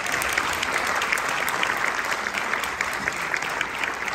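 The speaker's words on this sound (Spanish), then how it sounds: "Así que un aplauso para todos ustedes." A concert audience breaks into steady, dense applause at a Brazilian music show, with clapping holding evenly and loudly throughout.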